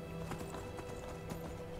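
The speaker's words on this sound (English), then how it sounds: "This might be my horse." Horse hooves clip-clopping in the Skyrim video game, a steady run of hoof strikes at moderate distance with a soft whinny mixed in over a constant ambient bed.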